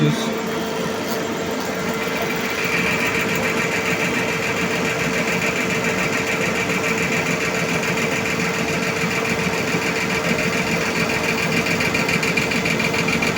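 A lathe turns furniture legs at low speed, held in a jig, giving a steady, continuous mechanical hum with a whining motor tone that holds level throughout at close range.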